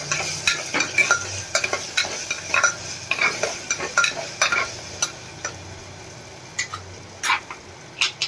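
Potato curry seasoned with turmeric and salt is stirred in a pan. A spoon makes quick rhythmic scraping strokes, some of them sharp clinks, over a faint sizzle, and no one speaks.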